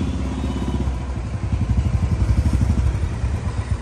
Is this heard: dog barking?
no